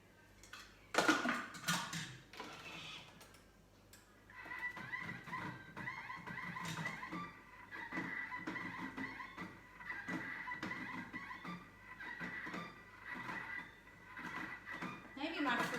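A kitchen blender fitted with a whisk attachment runs steadily with its lid on, a continuous whirring hum under occasional clatter and a voice talking over it.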